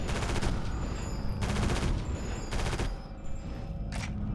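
Automatic weapon fire in the Area 51 shooter game: dense, loud bursts of rapid shots almost throughout, with brief dips between volleys.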